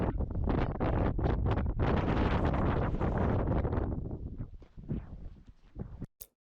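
Strong wind roars and buffets the microphone near the summit of Yatsugatake amid snow and fog, a loud continuous gusting rush that drops off toward the end, leaving a few scattered thumps and crackles.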